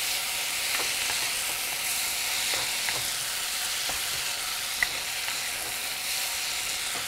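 Green chilies fry in a pan with a steady, close sizzle while being stirred, soft scraping taps breaking through the constant crackle.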